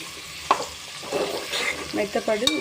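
Okra and potato pieces cook in oil over a low flame, a soft close sizzle with a utensil knock and stirring scrapes, while a voice murmurs faintly underneath.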